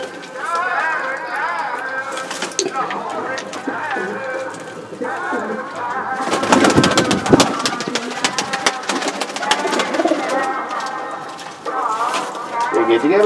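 Malwai pigeons from Punjab, a pure Malwa breed of champion flying pigeons, coo softly in a loft under steady nearby talk, with the cooing blending into the voices and growing busier midway.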